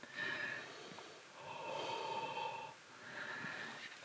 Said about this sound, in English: so if I breathe over it